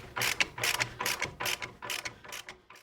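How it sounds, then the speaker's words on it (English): A ratchet socket wrench loosening a castellated nut on a Toyota Land Cruiser tie rod end, a series of about eight quick, close ratcheting clicks in an even rhythm. "socket and loosen off this castellated nut"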